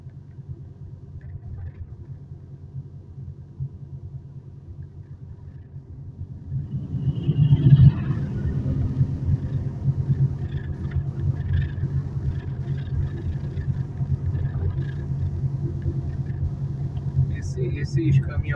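Trucks descend the Serra da Garuva mountain road, a low engine rumble that grows louder as one passes close by midway and then holds steady, with people talking over it.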